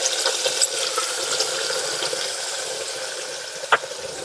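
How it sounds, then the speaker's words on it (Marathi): Hot water poured into a pan of broken wheat for a sweet porridge, a steady soft splashing pour with faint hiss throughout, ending with a brief clink near the close. "आता इथे मी पाणी ओतून घेते।"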